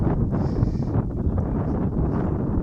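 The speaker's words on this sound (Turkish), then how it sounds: "Hava biraz esiyor ama." Wind gusts over a carp fishing spot by the water, a steady low rumbling buffet against the microphone that persists throughout with no speech.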